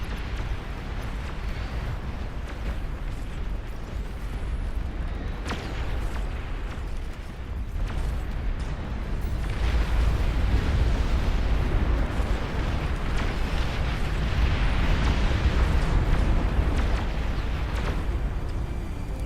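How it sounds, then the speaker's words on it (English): Long-range plasma cannon fire rains down in the RTS game Beyond All Reason during a massive 16 vs 16 battle, a continuous roar of heavy booms and explosions that grows louder partway through. "Long-range plasma cannons are targeting your area."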